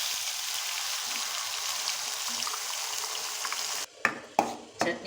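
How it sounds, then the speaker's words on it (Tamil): Onion chutney hitting a hot pan in a home kitchen: a steady loud sizzle and frying hiss, then a brief pause and a few sharp clatters and stirring bursts at the end. "அடுத்தது சட்னியை உள்ளே சேர்த்துக்கலாம்."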